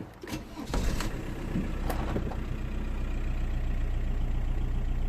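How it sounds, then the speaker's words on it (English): A VW Passat B5 car engine cranks and catches after a few short bursts, then settles into a steady, even idle that runs on close by. "So let's start the car and confirm the fault."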